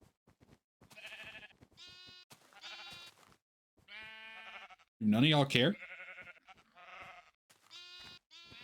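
Sheep bleating in the video game Minecraft: one loud, wavering bleat stands out midway among a player's continual chatter, which is mixed with fainter bleats.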